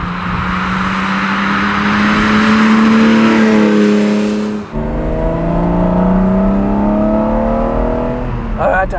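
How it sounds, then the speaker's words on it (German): A 1980 BMW M1 sports car engine roars loudly and close, revving up in rising pulls with a brief dip mid-way before climbing again into a strong, sustained howl. "Er hat einen tollen Sound, was? Boah, der brüllt richtig los."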